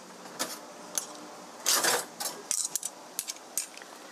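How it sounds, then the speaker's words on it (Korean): A pot lid lifted off braised chicken with potatoes, with a handful of sharp metallic clinks and a brief rattling clatter, close and fairly loud against a quiet background. "뚜껑을 여시고요."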